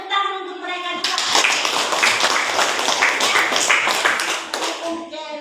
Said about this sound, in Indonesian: Tepuk tangan untuk mereka juga.